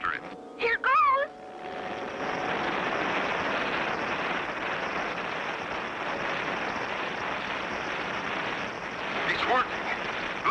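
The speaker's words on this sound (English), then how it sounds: "You're folding model airplane. Here it is, Clutch. Wind it up and let it go" A wind-up model airplane in a cartoon flies with a steady, broad whirring drone that holds for about nine seconds, preceded by a few quick chirpy squeaks and ending with a brief squeal.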